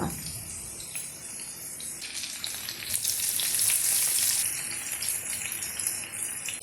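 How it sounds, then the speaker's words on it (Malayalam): Garlic, ginger, green chilli and curry leaves sizzle in the oil left from frying chicken, a steady close frying hiss that swells louder midway, with faint stirring and no talk. "ഇനി ചിക്കൻ വറുത്ത അതേ ഓയിലിലേക്ക് ഒരു ഒരു ടീസ്പൂൺ വെളുത്തുള്ളി ഒരു ടീസ്പൂൺ ഇഞ്ചി ഒരു പച്ചമുളക് രണ്ട് തണ്ട് കറിവേപ്പില ഇതെല്ലാം മിക്സ് ചെയ്യുക"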